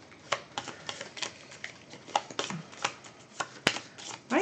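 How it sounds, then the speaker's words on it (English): Trading cards from a draft game are shuffled by hand at close range, a quick series of crisp riffling flicks and taps in an irregular rhythm with no talk. "Why are you shuffling them?"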